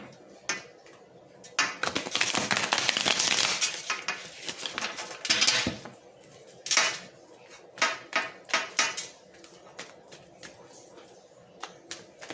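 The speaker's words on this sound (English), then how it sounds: "I'm just going to shuffle the cards again." A deck of cards is shuffled and handled, giving bursts of crisp riffling and flicking, then a run of sharp separate snaps and taps, close and clear with no talk.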